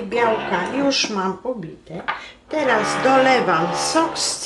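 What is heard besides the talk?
No everyday noise stands out behind the speech.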